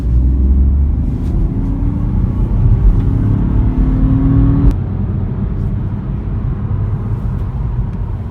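A BMW 1 Series F20 with a 136 horsepower engine accelerating hard on the road, a loud steady engine drone with rising tone and cabin rumble throughout, alone with no talk.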